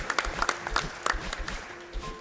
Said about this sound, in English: You guys can cheer for that.